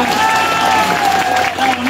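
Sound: crowd applause at a May Day rally

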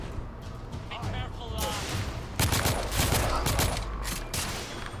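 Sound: gunfire in the video game The Order: 1886

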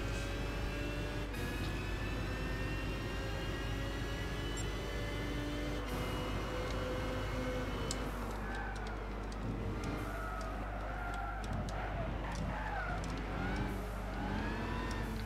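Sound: racing car engine and skidding in video game Gran Turismo 6

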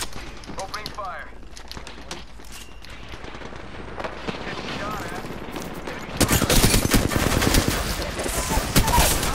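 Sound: gunfire in the video game Apex Legends

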